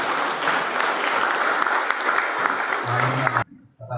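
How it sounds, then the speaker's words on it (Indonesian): A church congregation breaks into loud, sustained applause that cuts off abruptly near the end, leaving a brief murmur and a low hum behind. "Mari kita berikan tepuk tangan dulu."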